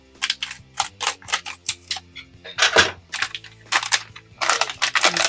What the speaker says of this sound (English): let's grab our scissors and let's open it on up